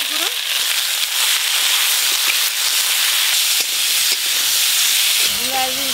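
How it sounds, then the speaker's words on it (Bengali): Potatoes and radishes lightly frying in hot oil give a loud, steady, close sizzling hiss throughout, with a voice briefly heard near the end. "ওই একই তেলে আলু মূলোগুলো হালকা করে ভেজে নেব।"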